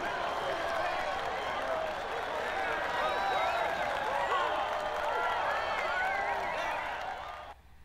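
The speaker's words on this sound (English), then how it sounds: "The applause from the team and the fans." Crowd and team applause in the MotoGP 19 racing game after a championship win, a dense steady wash of clapping and cheering that holds at full level throughout before cutting off near the end.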